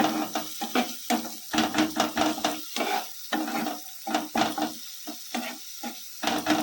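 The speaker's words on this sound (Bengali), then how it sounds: "ভালো করে মশলাটাকে কষিয়ে নেব।" Masala spice paste with Kashmiri chilli powder is stir-fried in a pan for chicken tikka masala, loud close sizzling with rapid, rhythmic spatula scrapes and stirs in quick succession, no talking.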